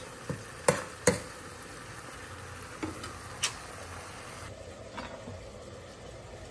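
Garlic and onion fry in a pan with a soft sizzle under a few sharp clicks of stirring utensils against the pan, close by and without talk.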